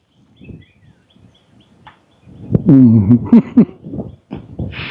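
A bird calls in the Vanni forest, with faint scattered chirps at first, then louder warbling, hooting calls for a few seconds, close and alone with no talk.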